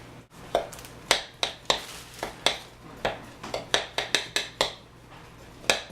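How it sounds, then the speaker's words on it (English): Sugar and melted butter stirred together in a medium bowl for a bourbon pecan pie, a spoon scraping and clicking against the bowl in a quick, uneven series of sharp taps close by. "in a medium bowl, you're going to stir together your sugar and melted butter"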